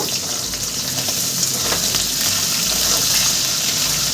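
Small spicy Bengali mourala fish fry in hot oil after being flipped, giving a steady, close, continuous sizzle with bubbling crackle throughout and no voices.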